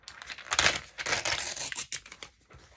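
Close scissors slice through a glossy magazine page, a few quick papery cuts and crinkles over a couple of seconds.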